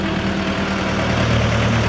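A Shifeng 404 tractor with a Jotrovsky-type engine, about 1,600 kg, idles with a steady low diesel rumble and a constant throbbing hum, close and continuous with no talk.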